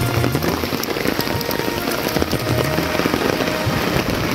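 Steady rain at Mui Wo on Lantau Island, Hong Kong, patters across a surface, a dense continuous hiss of droplets with scattered sharper drips, constant and fairly close throughout.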